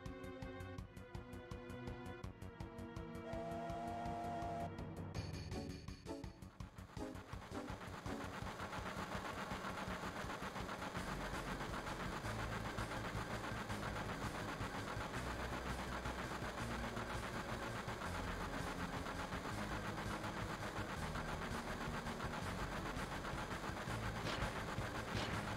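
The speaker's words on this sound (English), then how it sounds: "here we have the train segment where we're going to be chasing one train with another train" Trains rumble along in a continuous, steady mechanical drone during a train chase in the video game Final Fantasy VII, after a short burst of music at the start.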